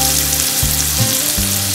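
Onions fry in a pan with a loud, steady sizzle while a low humming tone runs underneath and breaks off briefly as the onions are stirred.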